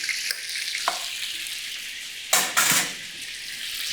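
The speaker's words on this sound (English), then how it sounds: "They go under the grill." Mushrooms dressed with olive oil and seasoning sizzle under a kitchen grill, a steady close hiss broken by a couple of sharp metallic clatters from the pan near the end.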